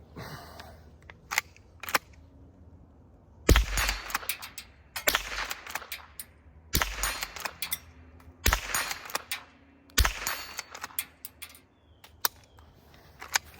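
Winchester Model 250 lever-action .22 LR rifle firing, about five sharp cracks a couple of seconds apart with metallic lever cycling and clicks between them, close and loud outdoors.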